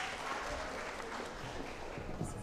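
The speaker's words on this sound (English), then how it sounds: "give yourself a round of applause" A keynote audience gives itself a round of applause, a continuous, fairly faint wash of many hands clapping with no voices standing out.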